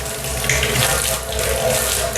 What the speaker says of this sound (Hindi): देखिए अभी गर्म पानी आना शुरू हो चुका है।